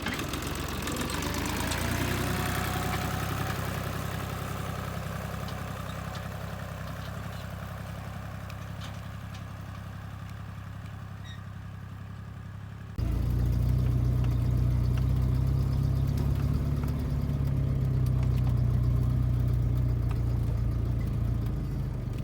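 A tractor engine idles steadily at a hay field during loading for hay baling, a low rumbling drone that grows louder and heavier partway through, with no talk.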